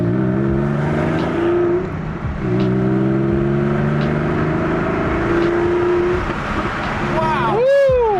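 A Porsche 911 of the 996 generation with a loud exhaust revs hard on a drive, its engine note climbing and dropping in repeated pulls, close and continuous, with a rising sweep near the end.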